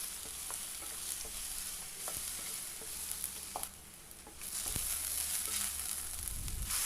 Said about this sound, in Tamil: அதையும் நல்லா எண்ணெயிலே வதக்குறேன்